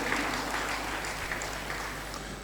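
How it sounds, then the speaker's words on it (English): A round of applause at a football tournament teams draw ceremony, steady broadband clapping from an audience that holds at an even level for the whole stretch, with faint murmuring underneath. "A round of applause, please."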